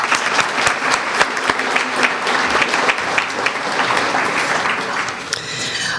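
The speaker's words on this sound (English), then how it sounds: "If we could give them a round of applause." Dense, steady applause fills the room at a community progress dinner, many hands clapping together at even loudness from start to finish with crowd murmur underneath.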